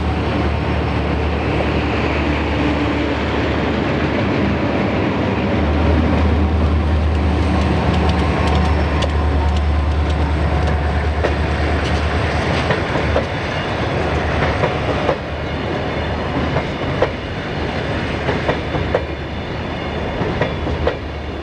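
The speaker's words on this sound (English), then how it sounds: "A northbound Public Service Company of Colorado unit coal train passed through the old Rio Grande rail yard on the main line." A northbound Public Service Company of Colorado unit coal train rolls through the old Rio Grande rail yard on the main line, a loud continuous rumble with clattering wheels and steady clickety-clack.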